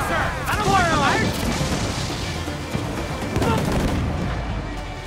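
Ship cannons fire during a naval battle in Assassin's Creed 4 Black Flag, booming blasts over a constant roar of sea and combat, with shouted crew voices layered in.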